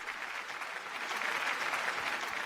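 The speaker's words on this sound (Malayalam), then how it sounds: "നല്ലൊരു കയ്യടി." A studio audience at a Malayalam TV game show breaks into steady applause, a dense wash of clapping from a crowd that swells slightly and holds throughout.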